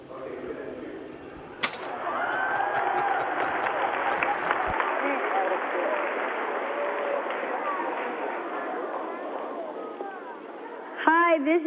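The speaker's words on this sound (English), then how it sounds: "Okay, you guys cheer." An audience cheers and applauds in a loud, sustained wash of clapping and shouting that lasts about nine seconds before thinning out, with voices rising again near the end.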